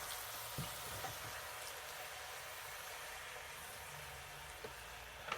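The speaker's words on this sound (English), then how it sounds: "In with our stock." Stock poured into a hot pan of braised lettuce makes a steady, soft hiss and sizzle, with a few faint clinks.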